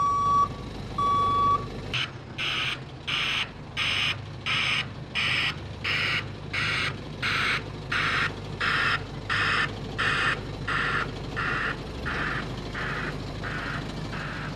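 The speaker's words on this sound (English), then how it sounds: "By using broadband sound, the BBS Tech back alarm is easier on the ear" A truck's BBS Tech broadband reversing alarm pulses in a steady rhythm of hissing, broadband beeps, repeating about a dozen times over a low engine rumble.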